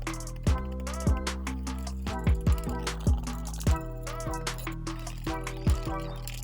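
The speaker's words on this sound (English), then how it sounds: "now we're just going to whisk that all together" Dirt cake filling for a no-bake dessert is whisked in a bowl, with irregular metallic clinks that ring briefly over a steady low hum. No one speaks.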